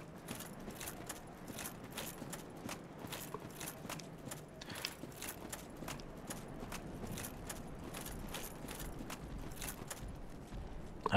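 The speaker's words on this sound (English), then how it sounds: "I hear loud stomping, it's just these guys" Heavy, regular stomping footsteps of enemies in the Dark Souls video game, a steady rhythmic series of thuds with metallic clinks, fairly faint and distant throughout.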